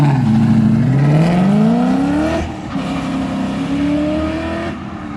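Coyote V8 in a Mustang Notchback roaring loudly up close as it launches from about 2,000 RPM, pitch climbing steadily with a brief break between gears before rising again.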